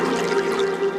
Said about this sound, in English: this is the stream sound, which is like water